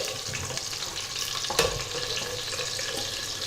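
Chopped onion frying in hot oil in a pan for a yam and herb stew, a steady soft sizzle with light crackle and a brief stir near the middle, close and moderately quiet.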